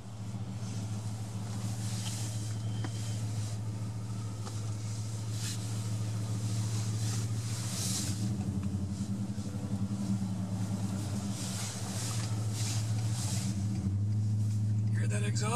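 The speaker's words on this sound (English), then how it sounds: "Can you hear that exhaust?" A 2017 Roush F-150 pickup with its Roush exhaust pulls hard under acceleration, a steady low engine drone and rumble filling the cabin at close range for the whole stretch, with broadband road and wind noise above.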